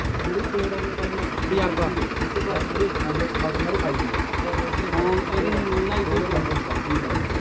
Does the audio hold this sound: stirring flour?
no